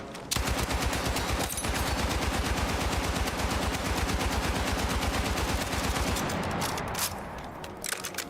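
Sustained automatic hip-fire from a weapon in Battlefield 6, a rapid, evenly spaced burst of loud close gunshots lasting several seconds before trailing off into a few scattered sounds.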